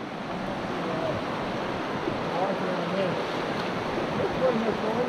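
Broad, steady rush of high river water filling the whole scene, constant and fairly loud with no breaks, carrying a windy, surf-like roar close to the microphone.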